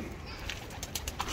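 Pigeons coo in a soft, continuous, low murmur, with a few brief higher chirps standing out faintly over steady background noise.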